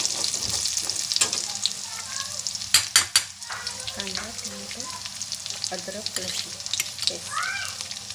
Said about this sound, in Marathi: त्यासाठी तेल टाकलेलं आहे कांदा टाकलेला आहे त्याला भाजून घेत आहे व्यवस्थित